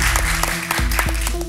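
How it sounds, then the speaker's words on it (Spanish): Audience applause for a musical director on a television talk show, a short burst of dense clapping close and loud, with music and a voice mixed underneath. "Un aplauso para Ernesto."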